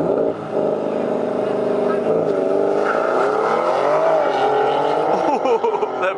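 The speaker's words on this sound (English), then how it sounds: "BMW just took off, bro." A big-turbo BMW 340i pulls hard in a drag race against a 2500 hp Dodge Viper, its engine rising in a steady, loud climbing drone with harmonics. People talk over it.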